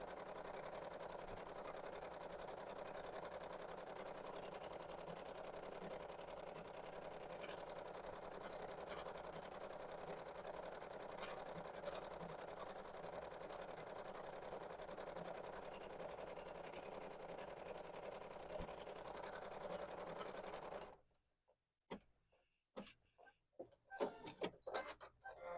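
Sewing machine stitching beanie fabric, a steady rapid mechanical whirr running continuously for about twenty seconds before stopping abruptly, leaving a few scattered faint clicks and rustles.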